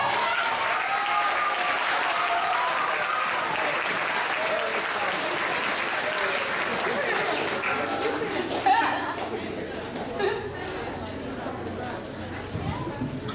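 Audience applause at an African American festival, a steady wash of clapping from a crowd that slowly thins toward the end, with voices and chatter mixed in.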